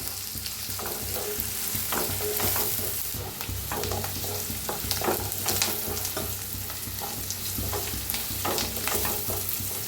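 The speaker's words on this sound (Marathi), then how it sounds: "कांद्याला भाजून घ्यायचं." Chopped onion fries in a hot pan for misal pav, giving a steady crackling sizzle with scraping stirs from a spatula, close and continuous, no voices.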